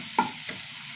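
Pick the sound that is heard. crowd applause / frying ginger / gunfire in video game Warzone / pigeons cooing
frying ginger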